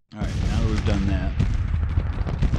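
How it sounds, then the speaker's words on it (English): Civil War infantry volleys in the strategy game Grand Tactician: Civil War, continuous rolling musket fire and booms under a voice speaking over the battle. "These guys firing? Yeah, they're firing."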